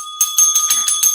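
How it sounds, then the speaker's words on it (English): A handheld bell rings repeatedly in a quick series of bright metallic strikes, each with a sustained shimmering tone, close and fairly loud with no talking. "Here's another bell."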